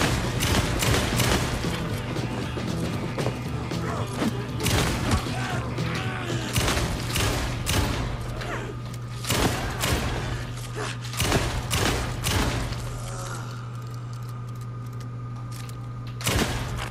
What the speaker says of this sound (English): The perfect environment for a shotgun.